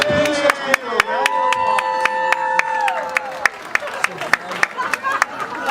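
Scattered audience clapping at a variety show, sharp separate claps spaced through a spoken voice on a microphone.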